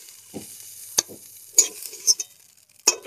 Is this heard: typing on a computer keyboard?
no